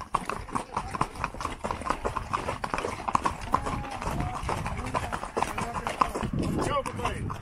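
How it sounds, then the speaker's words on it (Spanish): Horses' hooves clip-clop steadily in a brisk, overlapping rhythm during a group horseback ride among alfalfa fields, close and continuous, with voices talking over the hoofbeats. "Aquí venimos con los amigos cabalgando."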